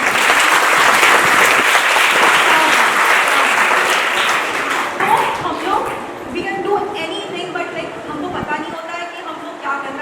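A crowd at a self-defense program event claps loudly and steadily, with some shouting or cheering mixed in as the applause fades somewhat toward the end.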